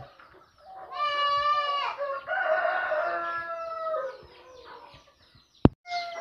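Silver Laced Cochin chickens and a rooster crow and cluck loudly and close by in a farmyard, harmonic calls overlapping for several seconds, followed by a sharp knock and brief quieter clucking.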